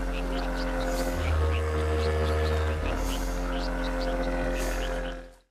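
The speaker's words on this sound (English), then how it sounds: "This is essentially a piano-sized bagpipe with chambers containing frogs that croak to the music" A droning, reedy drone of sustained tones from a fictional piano-sized bagpipe, with low buzzy frog croaks and pulsing notes layered over it, ending in a quick fade.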